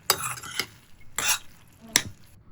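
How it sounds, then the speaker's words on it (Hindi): Macaroni being stirred in a thickening sauce in a pan, with three distinct scraping clatters of a spoon against the pan and faint sizzling in between, close by with no talking. "इसे थोड़ा सा मैं कुक करूँगी जब तक कि ये सॉस जो है ज़रा गाढ़ा ना हो जाए"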